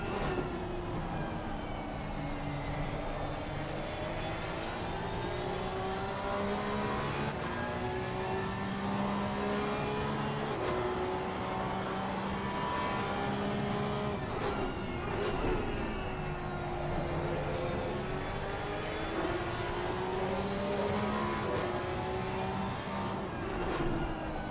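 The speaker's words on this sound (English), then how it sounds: "Let's get a sound of this Porsche Cup car as well." A Porsche Cup race car engine screams continuously from on board at Watkins Glen, its high-pitched whine rising and falling through gear changes and revs, loud and steady throughout.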